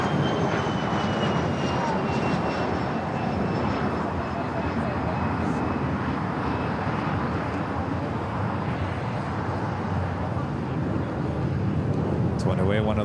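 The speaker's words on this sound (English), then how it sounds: "Went away one of those 787-8 Dreamliners." A Boeing 787-8 Dreamliner departing LAX sends out a continuous loud engine roar with a faint high whine, steady throughout, with voices over it.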